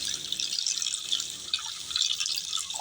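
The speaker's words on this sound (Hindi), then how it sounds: "1 कप पानी शामिल करेंगे" A cup of water is poured into a karahi pan on a lit stove while cooking mutton karahi. It makes a close, continuous splashing and trickling with small drip-like bursts and no talking.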